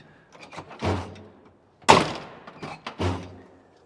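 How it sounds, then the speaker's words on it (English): Squarebody truck doors thunk shut three times in a row, close by, the middle one a sharp, loud slam and the others duller clunks. "Doors actually close pretty good."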